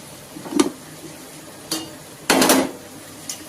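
A metal lid is set on a pot of tamarind broth for sambar: a couple of short clinks and scrapes, then a louder rattling clatter as it settles, heard close in a quiet kitchen.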